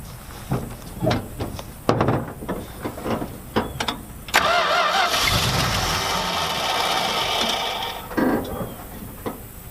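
Engine of a Dodge Ram truck, unused for 13 years, cranking in a few short bursts before it catches and settles into a loud, steady running roar, close by.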